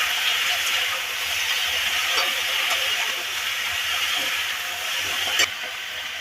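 Bitter gourd, jackfruit seeds and potato stirred in a hot pan give a steady, fairly loud sizzling hiss, with a few faint scrapes and one sharp tap near the end.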